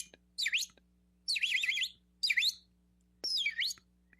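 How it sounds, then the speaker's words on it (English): Several short bursts of bird chirping and tweeting, four separate quick trilling calls with pauses between, fairly close and clear over a steady low hum, with no talking. "We hear birds."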